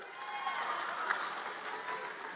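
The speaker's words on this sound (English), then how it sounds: "I'm going to pretend you're clapping for Jesus" Audience clapping steadily in a hall during a Turning Point USA event at GWU, a dense, even wash of applause that holds at constant loudness throughout, with a faint whoop or cheer briefly rising above it.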